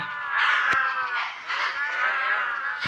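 Cows in the Minecraft video game moo in drawn-out, overlapping calls, loud and close, with no voices heard.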